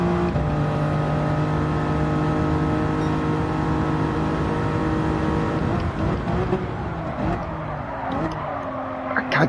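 Race car engine revving in Gran Turismo 7 at Interlagos, a sustained high-pitched whine holding steady for several seconds, then shifting and dropping as the car brakes or changes gear, loud and close.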